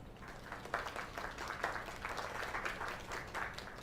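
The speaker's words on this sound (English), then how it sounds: "Another round of applause." Steady applause from a crowd in a video game, a continuous wash of clapping at moderate volume without a break.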